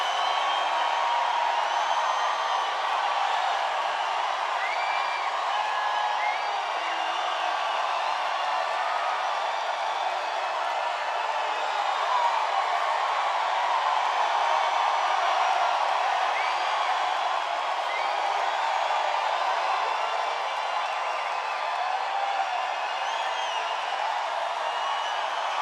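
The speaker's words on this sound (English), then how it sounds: "That's some crowd." A huge crowd at a Donald Trump campaign rally in Missouri roars and cheers continuously, a broad, dense wash of voices with scattered whoops and whistles, loud and unbroken throughout.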